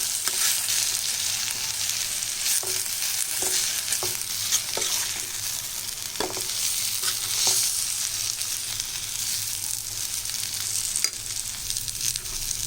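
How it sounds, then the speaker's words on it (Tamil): Eggplant masala being stirred in a pan over low heat, with a steady soft sizzle of frying and scattered scraping clicks from the spoon, close and continuous with no talking. "இப்போ இதை நல்லா கிளறி கொடுங்க. தீ கம்மியாக வச்சு கிளறணும்."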